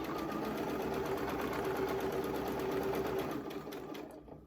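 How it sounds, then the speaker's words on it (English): A domestic sewing machine runs steadily for about three seconds, stitching a quilt block with a quarter-inch seam, its motor whir and rapid needle rhythm continuous before slowing and trailing off near the end. "Let's get my machine on and set my stitches. And I'm going to sew it all the way around."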